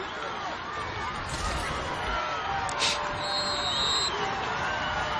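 A stadium crowd roars during a college football game between North Carolina Central and South Carolina State, a broad, steady wash of distant voices with a few brief whistles and shouts rising above it.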